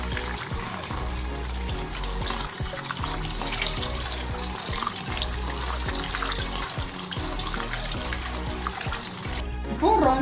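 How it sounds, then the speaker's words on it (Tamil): Tap water runs steadily over ayira meen being rinsed in a village-style kitchen, a continuous close splashing wash with faint clatter, ending with a brief louder gush. "Running water best. நீர் ரின்ஸ் பண்ணிட்டே இருந்தீங்கன்னா"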